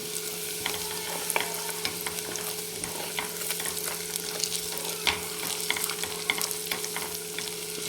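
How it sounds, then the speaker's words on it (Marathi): Black and red chili powder frying in hot oil for a mutton curry, a steady close sizzle with crackling pops and occasional stirring scrapes throughout, no voices. "आपण हे तेलामध्ये हे काळं तिखट लाल तिखट आणि काळं हे टाकून घेणार आहे आणि छान तळून घ्यायचं हे"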